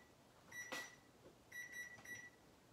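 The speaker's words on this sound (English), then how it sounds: "That's my rice alarm, sorry." A rice cooker alarm beeps in a kitchen, two faint, short bursts of bright electronic tones about a second apart, heard alone in a quiet room.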